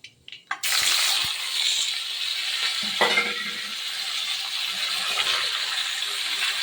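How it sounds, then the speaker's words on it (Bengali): Potatoes and cauliflower hit hot mustard oil with a sudden loud hiss after a few quiet knocks, then sizzle steadily and fairly close, with a brief stir partway through. "এখানে সর্ষের তেল বসিয়ে দিয়েছি দিয়ে দিলাম এখানে ফোড়নটা দিয়ে দিয়ে দিয়ে আমি এখানে আলু আর কপিটা একটু ভেজে নিই"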